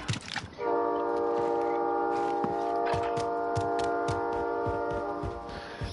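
A video game train passes with a loud sustained multi-tone horn blaring for about five seconds over rumbling rail noise, with a few clicks and clanks along the way.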